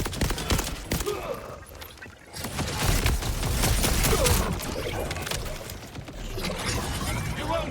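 Rapid bursts of gunfire in the video game Borderlands 4, dense and continuous throughout with someone talking and laughing over the shooting.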